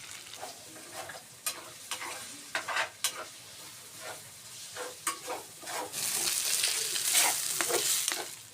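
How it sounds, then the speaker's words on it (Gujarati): Turmeric roasting in ghee over low heat in a pan, stirred continuously: repeated close spatula scrapes and knocks over a frying sizzle that swells louder near the end, with no talking. "સતત મિક્સ કરતું રહેવાનું છે નકર હળદર નીચે સોંટી જાય છે"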